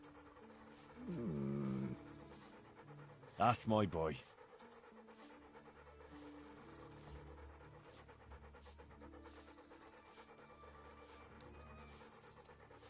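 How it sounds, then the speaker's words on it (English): A pet dog named Mutt pants in a quick burst of breaths, then barks or yelps loudly a moment later, close by, while someone speaks warmly over a faint background hum. "There's the good doggy."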